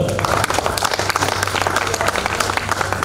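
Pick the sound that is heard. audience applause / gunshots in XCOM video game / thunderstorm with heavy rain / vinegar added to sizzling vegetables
audience applause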